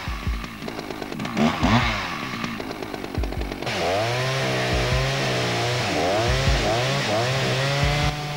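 A chainsaw fitted with a carpentry guide attachment for lengthwise cuts runs loudly nearby, its engine revving up and down, then settling into a steady high-pitched cutting roar.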